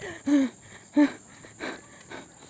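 Heavy panting after a jog outdoors: three or four loud, rasping breaths at an uneven pace, close to the microphone, with no talking.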